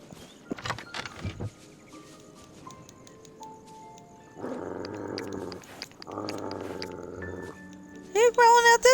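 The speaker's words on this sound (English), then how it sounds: "Who are you growling at this time?" A pet growling in the game Dreamlight Valley, with scattered soft sounds followed by two sustained low rumbling growls and a burst of high sound at the end.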